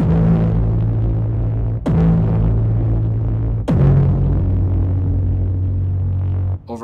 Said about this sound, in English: I'm actually considering a long plate reverb